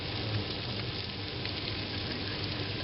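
Varenyky dumplings brown in a frying pan, giving a steady, close crackling sizzle that holds even throughout with faint stirring texture and no voices.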